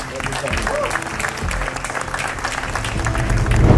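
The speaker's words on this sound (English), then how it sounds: "let's give a round of applause" Audience applause at a blockchain industry event in Malta, a steady clapping wash mixed with low musical tones and some voices, swelling toward the end.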